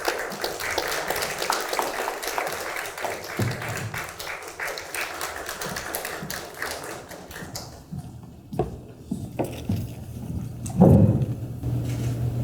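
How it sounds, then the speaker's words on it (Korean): Lecture hall audience applauding to welcome a guest lecturer, dense steady clapping that thins out after several seconds, followed by a few scattered thumps and faint voices. "김상문 선생님께 큰 박수로 맞이해 주시기 바랍니다"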